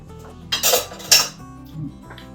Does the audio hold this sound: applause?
no